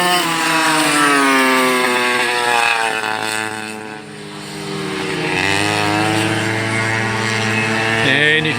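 Racing kart engine at a VKA Springfield practice day, loud and close, its pitch rising and falling steadily as the throttle is worked on and off through corners, with a brief dip midway.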